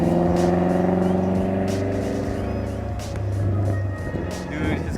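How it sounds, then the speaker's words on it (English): A tuned Mazdaspeed 3 engine revs nearby, a loud throaty drone with rising and falling pitch, while people talk excitedly over it. "his car sounds so nice"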